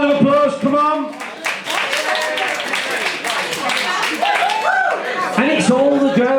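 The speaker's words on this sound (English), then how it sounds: "Give her a round of applause, come on." Audience clapping in a bar during a comedy hypnotist show, lively hand claps and cheering mixed with voices and laughter throughout.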